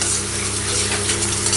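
Garlic and curry leaves fry in hot oil on a low flame while being stirred. A dense, continuous sizzle with soft scraping comes up close and fills the whole moment.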